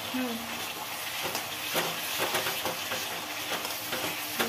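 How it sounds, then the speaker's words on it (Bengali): Chicken pieces frying in hot oil in a pan for a chicken curry with potato and cauliflower, a steady close sizzle with stirring and scraping clatter, while people talk over it. "এবার চিকেনগুলো দিয়ে দিচ্ছি, তাও ভাজা করবো"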